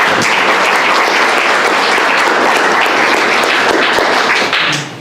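Loud, dense audience applause fills the room at an academic talk on funds of knowledge and identity, a sustained wash of many hands clapping that holds steady before tapering off at the end.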